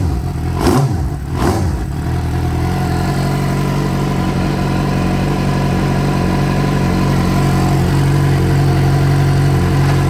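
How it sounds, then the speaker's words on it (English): A car engine, newly swapped in and running without coolant, catches on its very first start, with a couple of sharp bursts at the outset before settling into a steady, loud, continuous idle as the throttle is worked by hand. "I'm just actuating the throttle with my finger"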